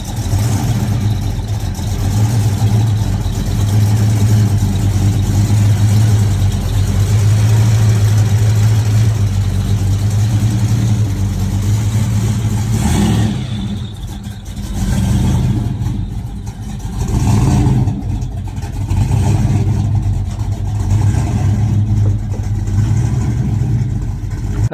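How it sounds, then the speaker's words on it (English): A muscle car engine runs loud and close on the street, a heavy, throbbing low rumble that holds steady, then dips and surges in a few revs toward the end. "Good engine sound."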